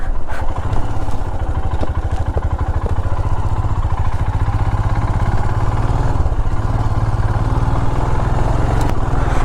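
A motorcycle rides along a road on a winter trip from Kolkata toward Siliguri and East Sikkim, its engine a steady, loud, close drone with rattling clatter running continuously throughout.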